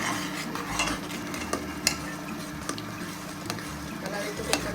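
Powdered masalas are stirred into a simmering chole gravy, a low bubbling sizzle punctuated by occasional sharp clinks of a spoon against the pot.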